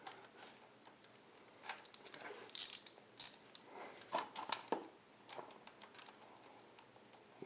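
A 17 mm wrench works loose the oil drain plug on a Harley-Davidson V-Rod under a low oil pan, giving a run of faint ratcheting clicks and metallic taps at irregular intervals, with no talking.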